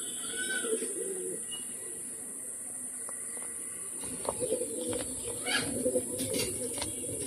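Flying pigeons coo in a soft, steady murmur over a constant high hiss, with a few louder bursts of calls near the end.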